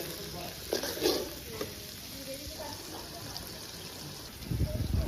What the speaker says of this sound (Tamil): சின்ன வெங்காயம் போட்டுக்கலாம். நல்லா வதக்கி விட்டுட்டு